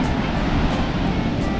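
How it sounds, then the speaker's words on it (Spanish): Ocean waves wash onto a warm Pacific beach in a steady, close roar of surf that fills the whole stretch, with no voices over it. "Aquí está el mar, ¿ves?"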